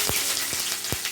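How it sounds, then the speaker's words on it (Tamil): Cinnamon, cloves and cardamom fry in oil in a kadai, a dense crackling sizzle close by with three soft low thumps spaced evenly through it. "பட்டை லவங்கம் ஏலக்காய் போட்டிருக்காரு. நல்லா பொரிய வந்துச்சு."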